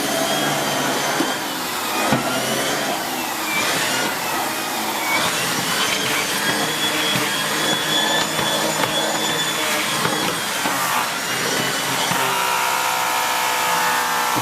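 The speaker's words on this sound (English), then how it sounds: "you can hear the brush damaging the lino underneath there" A vacuum cleaner's rotating brush head runs steadily on a lino floor, a loud continuous whirring drone with scraping and rattling from the brush clamping down on the surface, no voices.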